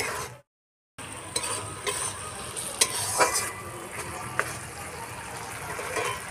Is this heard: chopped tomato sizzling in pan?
yes